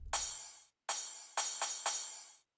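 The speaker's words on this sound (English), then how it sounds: "Then we've got a crash cymbal." Four electronic 909 crash cymbal hits, pitched up, bright and splashy, each ringing briefly and fading; the last three come in quick succession.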